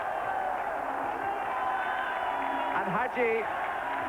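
Romania football fans cheer a goal in a match against Scotland, a broad crowd roar running steadily beneath a commentator's voice, swelling slightly near the end.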